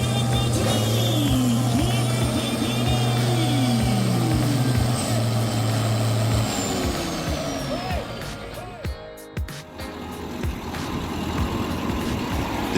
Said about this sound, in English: The DT75 with its sturdy tracks is now rescuing a long bed truck that slid off the road and got stuck.